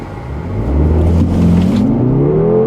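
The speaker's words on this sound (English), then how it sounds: "Okay, rev it a little bit." A 2014 SUV's engine revs and pulls hard on a 0-60 run, a loud low rumble rising steadily in pitch as it accelerates, close and unbroken.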